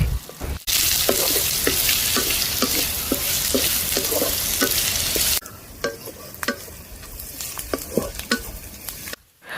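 Mangalore-style chicken sukka masala frying in a pan, with a steady loud sizzle broken by regular scraping spoon strokes, then quieter stirring clicks and a softer hiss after a cut.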